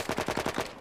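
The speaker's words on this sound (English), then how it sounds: "Sounded like I was taking some fire, maybe off from the right." Video game gunfire in Arma 3 arrives as a fast automatic burst of about seven sharp shots, loud and evenly spaced over less than a second, with no voices.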